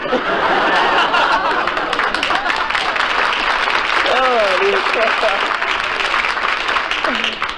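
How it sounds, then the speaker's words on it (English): Studio audience on a classic quiz show claps loudly and steadily throughout, with chuckles and scattered laughter mixed in and a voice briefly audible over the ovation. "Even a couple of married men are applauding"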